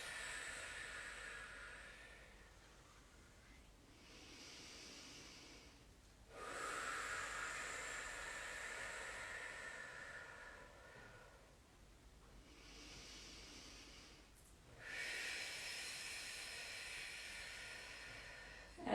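Deep, slow breathing during a low-impact postnatal workout: a few long, airy inhales and exhales, close and quiet, alone without talk.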